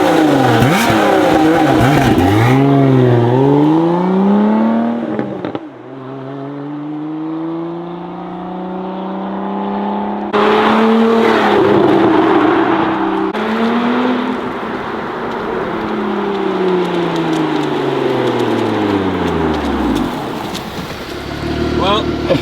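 Lotus Emira on the street with its stock exhaust, engine revving up and down in several long, loud swells close by, with people talking faintly.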